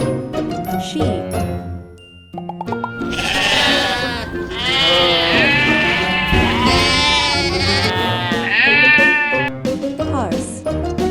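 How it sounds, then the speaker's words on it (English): Sheep and lambs bleat loudly nearby, a busy run of wavering calls overlapping one another, with a brief quieter gap early on. "sheep,"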